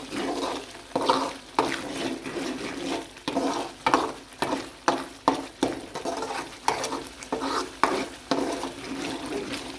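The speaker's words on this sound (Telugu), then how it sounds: "ఇలా మొత్తము ఆయిల్ సపరేట్ అయ్యేంత వరకు ఇది ఫ్రై ఇలా ఉడికించుకుందాము." Mushroom curry masala frying in oil in a pan until the oil separates, a steady bubbling sizzle broken by repeated scraping strokes of a spoon at a fairly regular rhythm, close and clear with no talk.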